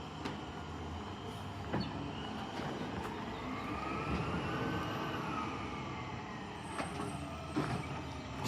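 A garbage truck idles and works nearby, its diesel rumble swelling and easing, with short hydraulic whines and intermittent clanks and bangs over steady low engine noise, no talk.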